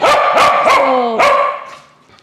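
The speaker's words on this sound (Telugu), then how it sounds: "ఫుల్ డే బో బో బో బో చేస్తూనే ఉంటాడు" A dog barks loudly several times in quick succession, close by, the last bark drawn out into a whine that fades away.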